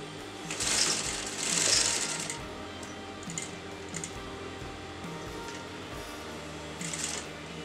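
A sewing machine stitches lace onto a kurta neckline in a few short bursts, faint and close, with quiet pauses between runs.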